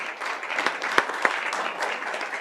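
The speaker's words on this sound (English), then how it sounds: "I want to give you one more round of applause" Applause from attendees at a school district governing board meeting, moderate scattered clapping with a few sharp individual claps standing out near the front.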